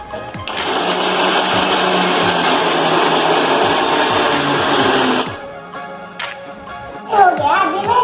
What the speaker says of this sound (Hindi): मिक्सर में डालना है। अभी इसको चालू करना है।